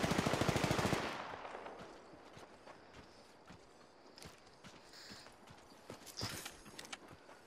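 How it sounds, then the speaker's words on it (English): Rapid rhythmic footsteps in the battle royale game Apex Legends thud loudly for about a second, then fade into a busier clatter of distant steps and scattered impacts. "I hear footsteps!"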